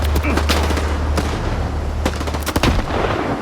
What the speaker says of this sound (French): Est-ce que je lui tire une grenade à la tête?